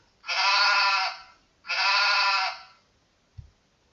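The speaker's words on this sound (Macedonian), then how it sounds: "Да слушнеме како се јавува овцата." Two long sheep bleats, each about a second, loud and close, separated by a short pause, followed by a brief low thump; no talking.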